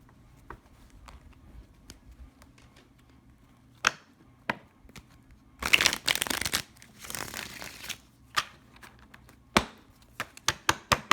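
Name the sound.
shuffling tarot cards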